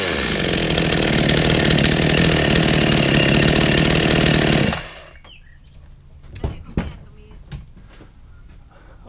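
A chainsaw that had been sitting unused runs loud and steady for several seconds, then cuts off abruptly. Scattered clunks and handling noises follow.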